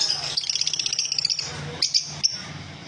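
Green Fischer opaline lovebirds chirping close by in a rapid run of high, bright tweets, then a pause and a few sharper separate calls.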